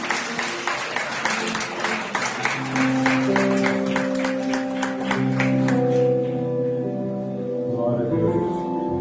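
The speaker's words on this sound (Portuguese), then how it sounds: "A igreja pode aplaudir o Senhor." A church congregation claps during a worship service, a brisk run of hand claps that fades out midway while sustained organ or keyboard chords and a voice carry on underneath.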